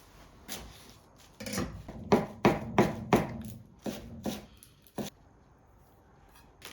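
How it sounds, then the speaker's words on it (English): A knife cuts through bread on a cutting board for croutons: a run of crisp, irregular chopping thuds, several in quick succession, then a few spaced strokes, close and clear with no talking. "If it's more airy, cut it into larger pieces."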